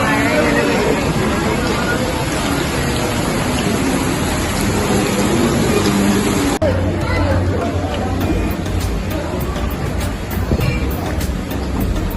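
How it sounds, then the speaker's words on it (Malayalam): Heavy rain falls steadily in a continuous dense hiss, with people chattering faintly in the background. "അപ്പം മഴ ഇങ്ങനെ പെയ്തുകൊണ്ടിരിക്കണം"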